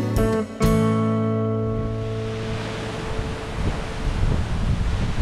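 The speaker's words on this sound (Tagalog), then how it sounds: "itong malakas na to na hangin dito sa amin, dito sa Cagayan Valley" Strong typhoon wind in Cagayan Valley roars as a steady broadband rush that builds and surges, following a few tonal notes at the start, with no voices.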